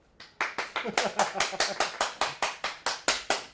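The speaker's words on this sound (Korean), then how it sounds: "이런데 박수 한번 치는 겁니다" A group of people clapping in a steady, unison rhythm during a garment restoration class, around sixteen sharp, evenly spaced claps, close and loud.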